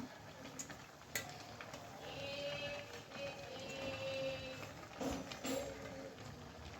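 Chopped bottle gourd greens fry and stir in a pan with a steady low sizzle, punctuated by a few brief utensil scrapes and clinks near the middle and end.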